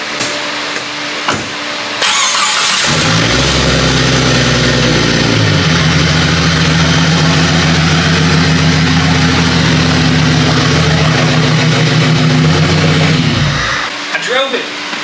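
A turbocharged Jeep Grand Cherokee engine cranking and catching on its first start, then settling into a loud, steady idle with a whirring turbo whine before shutting off.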